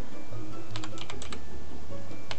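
Quick run of computer keyboard keystrokes, a short cluster of crisp clicks in the middle with a brief pause, close and fairly loud, no voices, set against a low steady hum.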